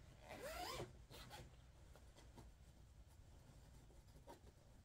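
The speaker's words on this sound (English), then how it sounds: "Do these zips annoy anybody when I do them up and undo them?" A zipper on a floss storage bag is drawn once quickly and loudly, followed by a few softer rubbing and sliding handling sounds nearby in a quiet room.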